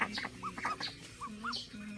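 Chickens clucking softly in a coop as a rooster pecks at a hen, several short rising clucks spaced through two seconds, faint and close with a little background noise.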